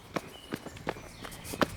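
Footsteps work as a sound effect in a narrated night story set in an old town. About five moderate, evenly spaced steps fall on a hard surface with soft background ambience, and no one speaks over them.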